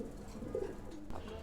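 Pigeons coo softly in a home pigeon house, a low, faint, murmuring call that swells briefly in the middle of the stretch without any voices.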